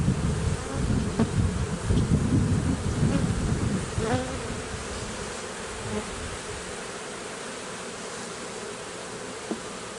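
A dense, steady buzzing of many honeybees in an open hive fills the air up close, a loud continuous drone that eases slightly after a few seconds.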